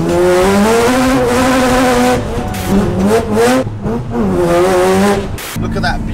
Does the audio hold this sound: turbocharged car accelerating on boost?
yes